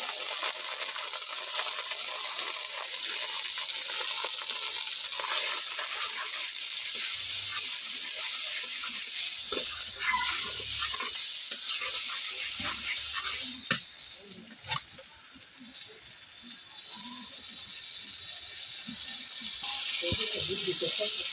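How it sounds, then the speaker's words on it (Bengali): Spice paste mixed with water sautés in a pan for a country chicken bhuna, a steady loud sizzling hiss with scattered scraping stir strokes throughout. "এখন কষিয়ে নিলাম"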